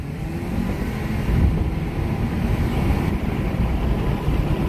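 An Audi A3 45 Quattro sedan accelerates hard from a launch-control start, a loud, sustained engine and wind roar heard from inside the car without a break and with no talking.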